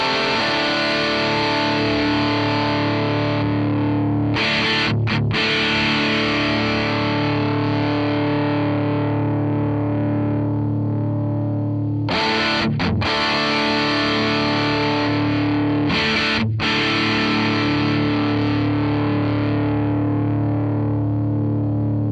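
Distorted electric guitar played through a Zoom G5n multi-effects unit while adjusting the mid EQ, thick sustained chords ringing loud and continuous, with a few brief stops between phrases.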